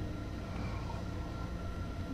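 A BR 101 electric locomotive in Train Sim World 2 pulls into a platform on the Munich–Augsburg line, a faint, steady low rumble of rolling wheels and motor hum with no break.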